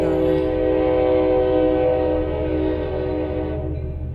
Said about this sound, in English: as the commuter train goes by, to work on the journal